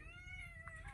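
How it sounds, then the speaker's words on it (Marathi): A cat gives a soft, drawn-out meow, faint and somewhat distant over low background rumble. "ये मांजर देखो."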